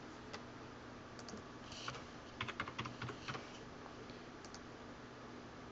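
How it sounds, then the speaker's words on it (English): Typing on a computer keyboard, a short burst of quick, light key clicks in the middle of an otherwise quiet stretch, faint and close, with no talking. "I'm going to quickly type in a name."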